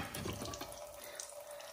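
Fluid dripping and trickling from the front axle of a 1999–2005 Hyundai Sonata during CV joint replacement, a steady close watery patter with no talk.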